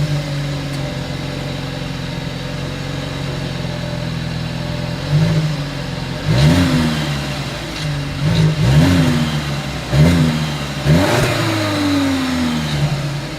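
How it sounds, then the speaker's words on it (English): A 2023 Volkswagen Passat idles, then is revved hard several times in quick bursts through its exhaust, each rise falling back to a steady idle between blips. "As always, here is that exhaust clip"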